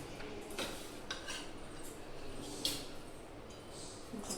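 A spoon scrapes and clinks against a bowl while kansar sweet is portioned out into a separate bowl, soft scattered taps and scrapes at a low level with no voices.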